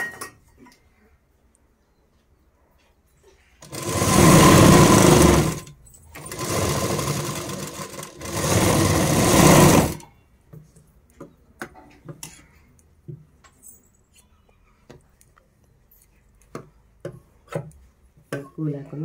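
A sewing machine stitches a blouse in three loud runs of steady, rapid mechanical clatter separated by short pauses, followed by quiet handling clicks and light rustling.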